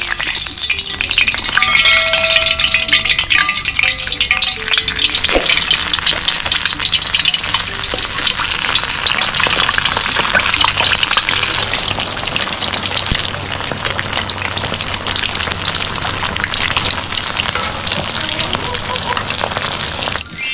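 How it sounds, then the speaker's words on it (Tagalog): Pork head deep-frying with hot oil ladled over it, a loud, steady crackling sizzle that fills the whole stretch, with occasional clinks and splashes of oil. "Papalutungin natin siya. Papaliguan natin siya ng mantika."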